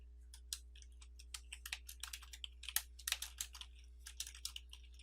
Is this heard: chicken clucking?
no